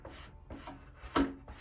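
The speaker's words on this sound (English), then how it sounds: "I'll put some fresh 220 grit sandpaper on my sanding bar." Slow rhythmic rasping strokes of 220-grit sandpaper on a sanding bar rubbing on wood, four or five back-and-forth passes, close and fairly quiet.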